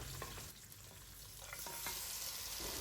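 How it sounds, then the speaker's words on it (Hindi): Mutton fries in oil with cumin, cloves, cinnamon sticks and cardamom, giving a soft continuous sizzle with occasional light clicks of stirring, faint and steady throughout, with no voices. "हाफ़ टेबल स्पून नमक डालकर हाई फ्लेम पर 5 मिनट फ्राई कर लेंगे"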